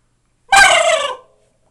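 A single drawn-out turkey gobble imitated with a mouth call, used for turkey hunting, rings out loud and close for under a second and then stops abruptly, with silence on both sides.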